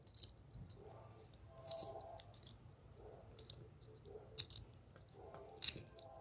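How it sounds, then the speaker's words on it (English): A pencil is ground in a small sharpener, giving faint, intermittent scraping crunches in short bursts over a quiet background. "Okay, back to sharpening this pencil."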